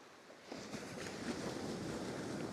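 Ocean waves wash up onto a beach at sunset, a broad steady surf hiss that swells after the first half-second and holds fairly loud, with wind noise mixed in and no talking.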